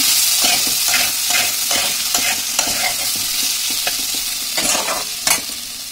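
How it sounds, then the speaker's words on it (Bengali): Ginger paste is stir-fried with capsicum for a pea and potato curry: a spatula scrapes and knocks against the pan in repeated strokes over a constant sizzle, with a sharper clack near the end. "এই সময় আমি আদা পেস্টটা দিয়ে দেবো এতে। এই পেস্টটা দিয়ে আমি ভালোভাবে কষে নেবো এর সাথে।"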